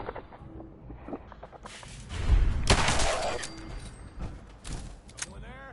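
Gunfire in a PS4 shooter, with a short burst of shots rising loud in the middle among mechanical clatter and effects, while a person talks around it.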